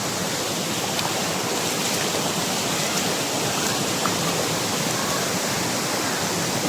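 Heaven Falls, a waterfall in Davao de Oro, gives a loud, close, unbroken roar of rushing water that stays steady throughout with no talk.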